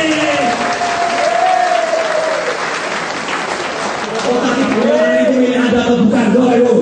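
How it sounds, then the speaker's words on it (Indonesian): Audience applause at a motivational seminar, continuous loud clapping with crowd noise and voices calling out over it, rising louder toward the end. "Tepuk tangan dulu semua."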